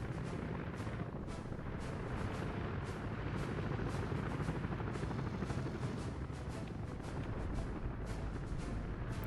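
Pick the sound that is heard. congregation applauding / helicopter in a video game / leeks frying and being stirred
helicopter in a video game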